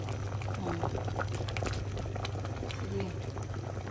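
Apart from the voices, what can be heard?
balatong dish boiling in a pot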